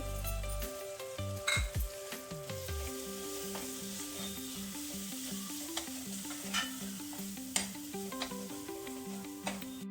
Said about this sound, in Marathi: मी आता काढलेला मसाला टाकते.